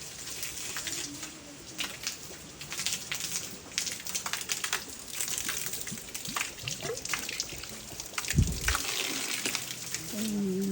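Water flowing and trickling steadily, with scattered splashes and faint background voices.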